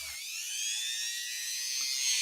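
A Dremel rotary tool cleaning a spring from a Singer 201-2 sewing machine gives a brief, high, steady whine that rises slightly in pitch, close by and alone.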